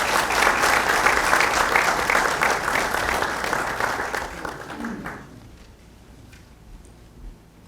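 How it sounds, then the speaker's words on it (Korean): Audience applause at a Korean church dedication and founding service, steady and loud clapping from a crowd for about five seconds before fading out to quiet room tone. "우리 신부님도 박수 주시기 바랍니다."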